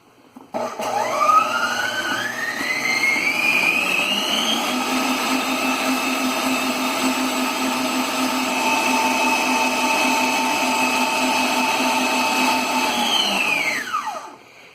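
An electric mixer beats chocolate cake batter in one continuous run, spinning up quickly, holding a loud steady whine for about twelve seconds, then winding down at the end, close and with no talk.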